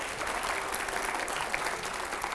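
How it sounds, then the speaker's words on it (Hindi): Dense, steady audience applause fills a studio event where editors question a BJP member of parliament, sustained at an even level throughout with no speech over it. "जोरदार तालियां हो पहले।"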